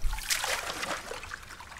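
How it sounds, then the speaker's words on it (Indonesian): Lake water poured over plants in the survival video game Mist Survival, a short splashing trickle that is fairly loud at first and then thins into a lighter dribble. "Oh ya kita siram tanaman dulu."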